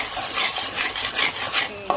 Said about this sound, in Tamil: இந்த மாதிரி கொஞ்சம் 1 மினிட் இப்படியே ஸ்டிர் பண்ணணும்.